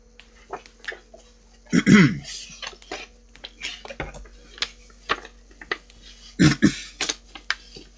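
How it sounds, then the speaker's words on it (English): A few sharp, harsh coughs burst out close by, a loud cluster near the two-second mark and another short pair later, with quiet room noise between. "Sorry for the coughing."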